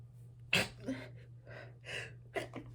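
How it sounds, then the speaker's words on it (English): A single sharp sneeze bursts out close by, followed by a few quieter breathy sounds and faint murmurs over a low steady hum. "I'm gonna sneeze."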